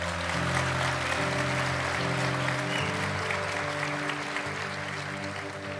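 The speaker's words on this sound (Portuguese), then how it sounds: "Dê um aplauso ao Senhor." Church congregation applauding at a Christian community baptism service, steady broadband clapping filling the room throughout with sustained musical tones underneath.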